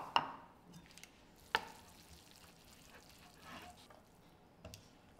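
Spaghetti being tossed and stirred with freshly grated Parmigiano Reggiano for carbonara, a few soft scraping clicks and light stirring sounds, close and quiet, with no talking.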